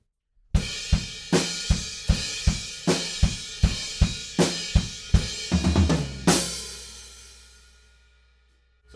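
Drum kit plays a steady groove, then a fill closing with a quick triplet flurry on drums, landing on a loud crash cymbal that rings out and slowly decays; close and unaccompanied.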